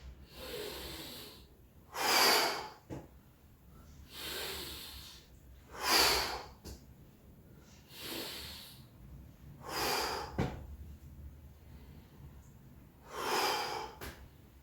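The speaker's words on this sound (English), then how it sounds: "Inhale down, big exhale as we go up and twist." Forceful exhales during a no-equipment full-body workout twist exercise, sounding as four or five loud, breathy bursts spaced about every two to four seconds, with softer inhales between and no talking.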